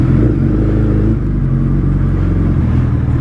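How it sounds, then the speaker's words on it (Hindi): A Suzuki Hayabusa sportbike engine runs loud and close, a steady low rumble with slight revving and no voices over it. "तो जी करते हैं फटाफट से बाइक स्टार्ट"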